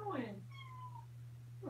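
Two short meows from a tabby kitten, close and clear, one at the start and one at the end, over a low steady hum.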